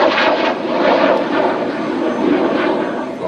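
A Hispano HA-200 Saeta jet trainer flies a display at the ILA 2014 air show, its engine roaring as a loud, steady broadband rush that swells and fades slightly as it passes, with no talk.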